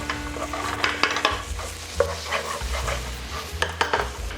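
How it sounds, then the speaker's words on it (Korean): Mapo tofu ingredients being stir-fried in a pan, a steady sizzle of frying food broken by repeated scrapes and clinks of the spatula against the pan, close and fairly loud with no talking. "향이 날 때까지 볶아주시고요."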